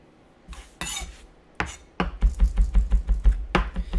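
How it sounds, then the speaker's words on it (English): A knife minces garlic on a cutting board in a series of close, rapid taps and knocks, starting with a few scattered hits and then settling into a quick chopping rhythm. "So we're just going to get our garlic all minced up."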